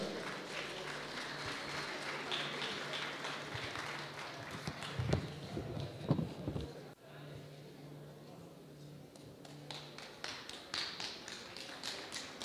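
Public applause at a Peruvian award ceremony for winning estudiantina music groups, scattered clapping in a large hall mixed with crowd noise, a brief loud burst midway, then thinner claps resuming toward the end.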